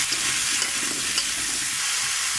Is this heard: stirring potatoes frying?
yes